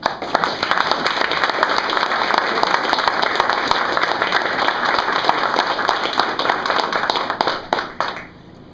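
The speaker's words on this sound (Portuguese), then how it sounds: "A ele eu peço uma salva de palmas." Sustained audience applause at a Masonic tribute ceremony in Brazil, a thick, even patter of many hands held for several seconds before tapering off abruptly at the end.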